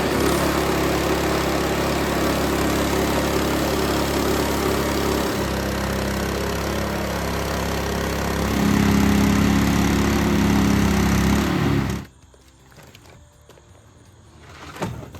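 Sawmill rig cutting a timber beam from a log, a steady loud engine drone with a saw running beneath it that builds slightly toward the end of the pass, then drops off abruptly to a quiet idle.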